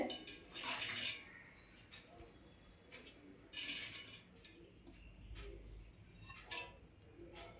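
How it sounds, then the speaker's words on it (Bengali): A cup of water poured over khesari dal in a kitchen, splashing in a few bright bursts with quieter clinks and handling noise between them, close by and without speech. "এক কাপ জল এর মধ্যে অ্যাড করছি খাসারি ডালের উপরে"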